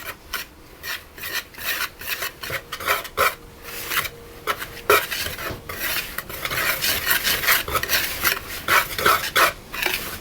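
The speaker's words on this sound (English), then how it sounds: "I'm going to give those a mix around just to combine them" A spoon scrapes and rubs quickly against a bowl while salt, sugar and coconut are mixed together, a close, rhythmic rasping that runs in short repeated strokes with no talking.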